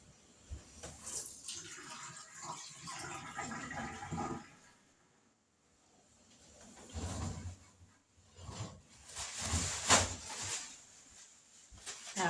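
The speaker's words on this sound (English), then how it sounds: "Let me drain the water off of them." Boiled potatoes being drained, water pouring and splashing out of a pot in two bursts with a quieter pause between, close and fairly loud, no talking.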